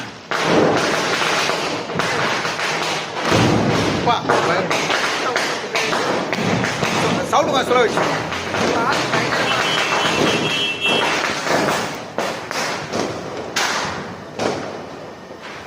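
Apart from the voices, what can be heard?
firecrackers exploding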